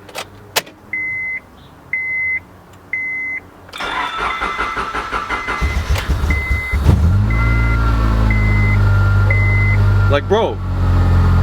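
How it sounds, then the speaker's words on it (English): A Honda Civic with a crank-no-start fault chimes several times before its engine cranks, catches and settles into a loud, close idle that swells with revving. Someone speaks briefly over it. "Watch, I haven't even started the car yet."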